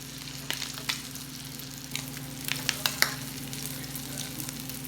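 Old Bay crab cakes fry in a pan with a continuous close sizzle, with scattered crisp pops and spatters rising above the low steady hiss.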